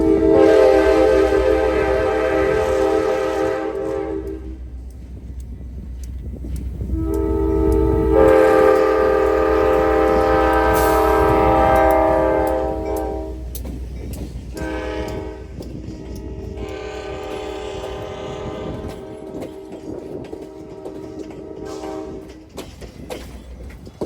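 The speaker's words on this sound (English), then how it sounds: "to see yet another train headed in for the night" A WeGo Star commuter train led by locomotive 122 rumbles past steadily for a long stretch, sounding several loud, sustained horn blasts with gaps between them.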